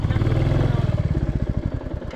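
A motorcycle, hot after a ride, idles loudly and close by, its low throbbing engine pulsing steadily and then chugging more unevenly as it slows toward a stop.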